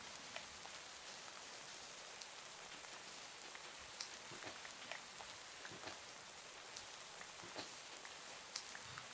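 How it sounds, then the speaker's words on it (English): Steady rain in the Minecraft OceanBlock game makes a soft, continuous patter of drops, faint and even, with no talking. "we just gotta wait for the rain to stop, I guess"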